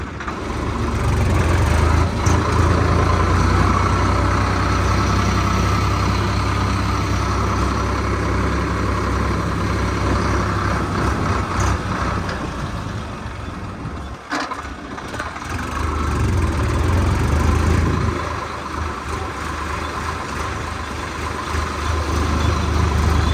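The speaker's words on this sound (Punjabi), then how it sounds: "ਲੈ ਕੇ ਚੱਲਦਾ ਟਰੈਕਟਰ ਹੁਣ" A tractor engine runs steadily nearby, a loud continuous low rumble that dips briefly in the middle before returning to a constant idle, with no speech.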